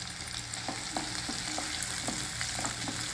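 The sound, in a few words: garlic cloves and dry red chillies frying in oil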